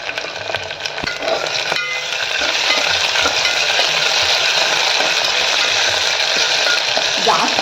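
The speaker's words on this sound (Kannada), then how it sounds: "ಆಲೂಗೆಡ್ಡೆನೂ ಸ್ವಲ್ಪ ಎಣ್ಣೆಲಿ ಫ್ರೈ ಆದರೆ ಚೆನ್ನಾಗಿರುತ್ತೆ ಟೇಸ್ಟ್." Potatoes fry in hot oil for a tomato pulao, a steady, loud sizzle that starts with a clatter and some stirring, then holds even and close throughout.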